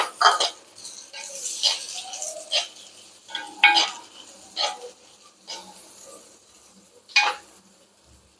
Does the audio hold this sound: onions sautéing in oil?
yes